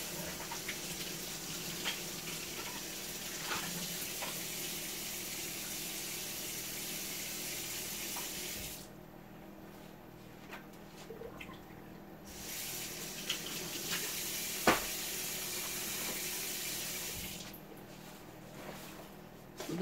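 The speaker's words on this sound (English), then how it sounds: "I'm going to rinse it and then put it off to the side here." Water running steadily from a kitchen tap while an item is rinsed beneath it, a continuous close splashing hiss with brief pauses in the flow and small knocks of the object against the sink.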